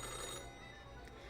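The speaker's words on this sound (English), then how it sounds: "The old-fashioned phone again rings right as you settle in" An old-fashioned telephone ringing in the Death and Taxes video game: a steady, dense ringing tone that fills the whole short moment at an even level, faint overall, with no voices.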